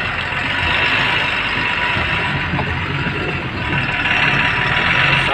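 A truck engine runs steadily and loudly while the vehicle crosses a river on a new, untraveled route, a continuous rumbling drone with mechanical rattling and broadband splashing noise throughout.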